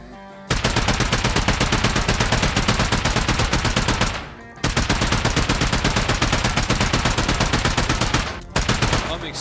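Explosive ammo fired in the survival game Rust at night, heard as long rapid automatic bursts of loud, evenly paced shots, three sustained strings divided by brief pauses, close and with no voices over them.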